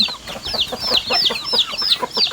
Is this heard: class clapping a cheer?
no